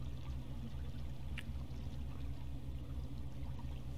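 Steady, dense rush of water in the video game Rain World, like a broad wall of flow pouring down, continuous and fairly loud throughout with no talk over it.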